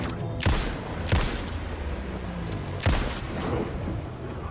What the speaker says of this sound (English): in the Dark Place, gunshots sound semi-realistic but also have these surreal reverb tails